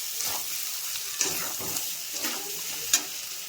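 Meat sizzles and fries in a pan while being stirred for a Purulia-style meat ghugni, a steady crackling hiss broken by scraping stirs and a few sharp clinks, close and alone.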